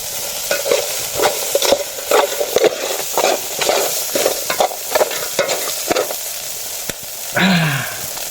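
Insects dry-roasting in a leaky pot over a strong open fire, heard as a steady crackle and scrape of stirring with rattling, ticking bursts, close and loud, ending with a brief squeaky tone.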